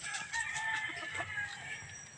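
A shamo rooster crows close by in a clear, strained call lasting about two seconds, with faint clucking and farmyard noise underneath and no talk.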